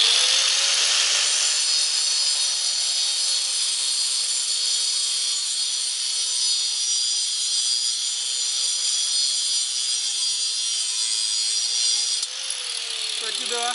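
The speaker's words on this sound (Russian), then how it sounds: "Кстати, да, пилит классно. Обыкновенный диск." A power saw fitted with an ordinary disc cuts through copper while a refrigerator compressor is taken apart, giving a loud, continuous high whine that holds steady for the full length and shifts slightly near the end.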